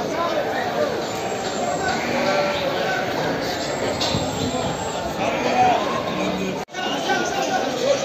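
Sheep bleat now and then amid a dense, noisy livestock market in Aksaray, Turkey, with crowd chatter and people talking throughout.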